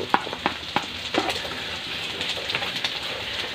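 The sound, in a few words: carrots and beans frying in a pan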